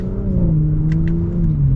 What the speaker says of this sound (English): listen to the downshift. Does little gargles out of the exhaust